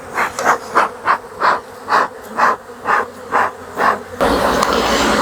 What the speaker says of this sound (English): That's a lot of bees here.